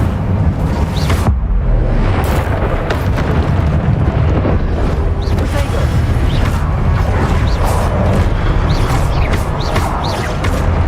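Incendio fire spell cast in the video game Hogwarts Legacy, with loud, dense roaring fire bursts and crashing impacts that run almost continuously, broken by a brief lull near the start.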